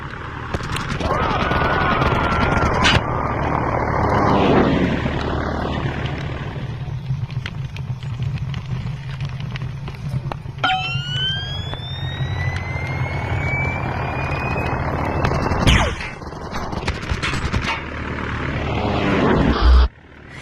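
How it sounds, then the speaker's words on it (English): A low-flying aircraft in the video game I Expect You To Die, heard as a loud, sustained engine drone with rising whistling tones in the middle, along with game sound effects and some sharp impacts. "We've received reports of a low-flying aircraft in your area."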